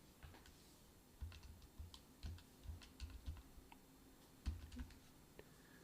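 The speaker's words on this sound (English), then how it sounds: "oh, I'm typing the wrong thing." Someone types on a computer keyboard while coding a prime number generator, with light irregular key clicks in short bursts and pauses, faint and close, with no talking.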